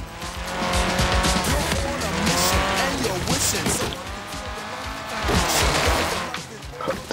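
Race car tires squealing and skidding through long drifts in Forza Horizon 3, loud engine revs with sweeping rising and falling screeches, continuous and close.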